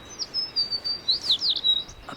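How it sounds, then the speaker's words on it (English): A bird perched on a branch sings a run of bright, high chirps and trills, clear and fairly close, with quiet surroundings. "A bird up on the branch over there."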